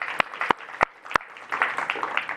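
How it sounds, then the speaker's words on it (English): An audience applauding for the CUNY Chancellor at a panel on affordable housing and economic mobility in New York City, with a few loud separate claps over a scattered patter of clapping. "can we all kind of a big round of applause for the CUNY Chancellor?"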